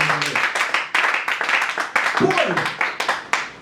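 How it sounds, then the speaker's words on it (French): A congregation at a Christian prayer meeting claps in sharp, regular rhythmic beats while a voice speaks loudly over the clapping. "Donnez une bonne main d'acclamation à Jésus de Nazareth."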